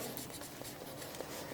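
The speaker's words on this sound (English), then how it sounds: "I'm going to write with the Sharpie on this label what this is" A Sharpie marker squeaks and scratches across a plant label, faint and close, with short, quick strokes.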